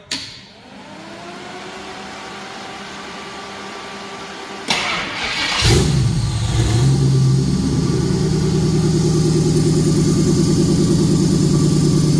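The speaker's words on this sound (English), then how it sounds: "So crank it up, Mando." Turbocharged Ford F-150 5.4L 2V V8 cranks over briefly, catches and fires up, then holds a loud, steady rumbling idle with light revving, close up and with no talk.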